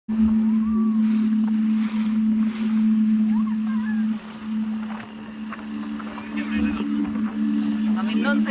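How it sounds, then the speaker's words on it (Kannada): A tour boat's engine drones steadily as it sets off from Agatti Island in Lakshadweep, a low continuous hum with wind and water noise, while people talk faintly in the background. "ಹೊರಟು ನಮ್ಮ ಬೋಟ್ ಹೊರಟು"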